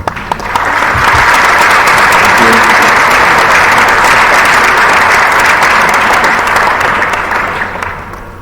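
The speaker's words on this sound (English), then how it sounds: "I would now like to invite everybody to give a round of applause." An assembly audience at a student symposium breaks into loud, sustained applause that swells quickly, holds strong for several seconds, then tapers slightly at the end.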